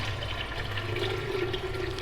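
Salt water for a phytoplankton culture pours steadily into a jar, a continuous splashing, gurgling stream that stays close and fairly loud throughout, with no voices.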